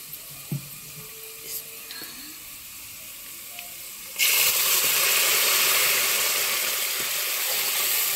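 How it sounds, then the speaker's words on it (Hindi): Milk poured into a pot to make vermicelli, a steady broadband pouring rush that begins partway through and runs to the end after a few quiet clinks, fairly loud and close with no talk. "अभी हम डालेंगे दूध।"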